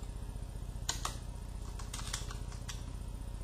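Quick bursts of keystrokes as a WorldEdit command for a Minecraft server is typed on a computer keyboard, soft clicks in a few short clusters over a steady low hum, close and faint.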